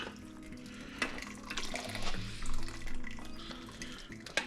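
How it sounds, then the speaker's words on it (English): Ramen stock is squeezed and strained from cooked solids, giving wet sloshing, trickling and dripping with soft squelches, close and continuous, no speech. "might as well squeeze out all the stock you can from here"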